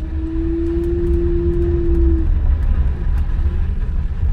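A 2007 Honda Ridgeline rolls through low-speed turns, its steady low rumble joined by a sustained moaning tone for about two seconds that fades, then a brief faint return; no one speaks.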